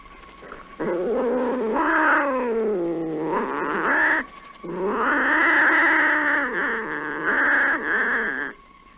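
A cat yowls in two long, drawn-out wavering cries, loud and close, each rising and falling in pitch before stopping.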